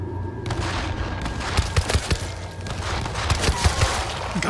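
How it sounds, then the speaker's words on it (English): Rapid bursts of gunfire in the video game World War Z crackle over a dense rumbling background, with sharp thumping shots clustered in the middle and later, fired from a bus. "Gunfire from the bus."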